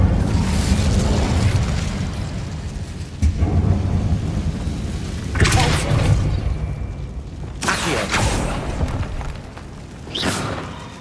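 Fire spell cast in Hogwarts Legacy: a deep roaring rumble with several heavy whooshing bursts and booms, loud and close, swelling and fading over a sustained low rumble without talk.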